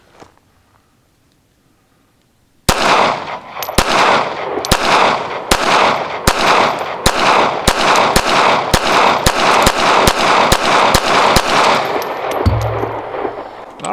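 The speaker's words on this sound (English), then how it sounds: "I'm going to fire 15 rounds, see what happens" A Ruger Security-380 Lite Rack .380 pistol fires around fifteen rounds in quick, loud, evenly spaced succession outdoors, each crack echoing, after a short quiet lead-in.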